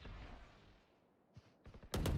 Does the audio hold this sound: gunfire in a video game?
yes